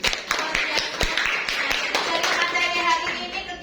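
Students in a university agriculture lecture applaud together in a scattered, moderately loud round of claps, with sharp hand strikes standing out and a voice speaking over them.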